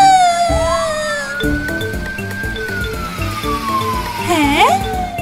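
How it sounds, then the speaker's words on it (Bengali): A cartoon ambulance siren in a Bengali kids' toy cartoon wails in a steady rising and falling sweep, loud and continuous, over bouncy background music and ending with a quick upward swoop. "তার আগে আমি অ্যাম্বুলেন্সকে ডেকে নিই।"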